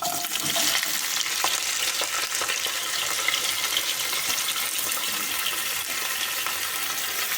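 Thinly sliced ivy gourd frying in hot oil, a dense, even hiss of sizzling that holds steady throughout, close by with occasional light scrapes and no speech.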